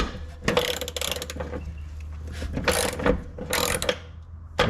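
A wrench works at a stubborn bolt during a barn-find car restoration, giving close, ratcheting clicks in uneven bursts over a low steady hum, with no voices.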